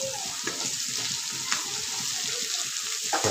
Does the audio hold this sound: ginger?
yes